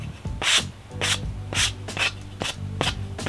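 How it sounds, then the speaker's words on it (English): A dirty wooden piece from a shed being sanded by hand, heard as about seven quick back-and-forth rasping strokes, close and moderately loud, with no talking. "This is one of those wooden pieces that I grabbed from the shed, and it's very dirty. I'm just gonna sand it off."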